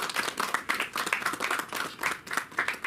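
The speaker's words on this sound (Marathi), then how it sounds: "टाळ्या वाजवा सगळ्यांनी." An audience claps together at a poetry gathering marking an anniversary celebration, producing a steady burst of close, fairly loud hand claps with rapid uneven rhythm throughout.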